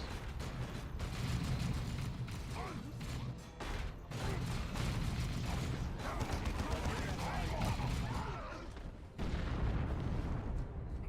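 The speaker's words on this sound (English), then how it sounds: "That felt like a frag grenade" Explosions and battlefield rumble from the Dawn of War 2 strategy game, with a frag grenade going off amid continuous gunfire and booms, dense and steady with brief dips between blasts.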